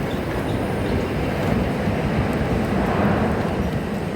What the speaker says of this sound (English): I think I hear a train.